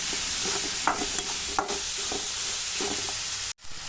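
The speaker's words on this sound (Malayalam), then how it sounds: "നന്നായി ഇളക്കി കൊടുക്കുക." Food frying in a pan is stirred, close and loud: a constant sizzle with repeated scraping strokes at an uneven rhythm, then a sudden brief drop near the end, with no speech.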